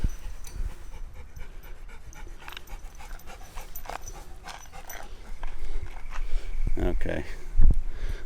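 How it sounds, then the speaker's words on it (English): A dog pants as it comes along a walking trail at Picnic Point in Toowoomba, Queensland, with quick breathy puffs that grow louder as it nears, while people talk nearby. "Here comes the dog."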